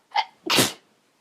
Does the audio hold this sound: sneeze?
yes